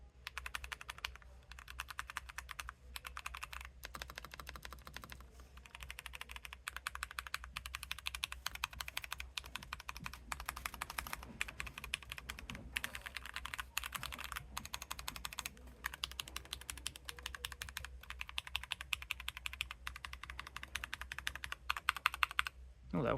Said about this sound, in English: I actually forgot to do a typing test, so I'll do a quick one for y'all. Not really a typing test, but a sound test.